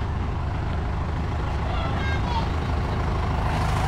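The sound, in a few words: oncoming jeep on narrow road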